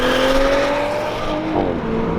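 A carbon-fiber-loaded custom build car with a touring exhaust revs up under acceleration, a loud, smooth rising engine note close by, climbing steadily in pitch before shifting.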